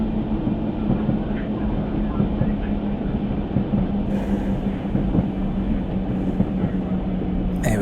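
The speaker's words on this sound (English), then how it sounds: "just easing the train into the station, or into the platform" Diesel railcar in a train simulator game easing into a station platform under light braking, a steady low engine and rolling rumble with a faint tonal hum throughout, while someone talks over it.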